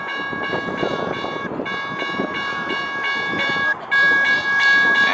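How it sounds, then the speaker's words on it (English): A United Streetcar-built Portland streetcar passes at night near Tilikum Crossing, its loud rumbling wheels under steady whining electric tones, with a sharp jolt toward the end. "That's one of the United streetcars. They're very nice trains"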